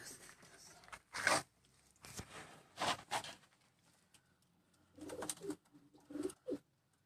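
Rooftop racing pigeons, a prized long-flying bird among them, giving several separate bursts of close cooing and fluttering with quiet gaps between, and a little faint speech.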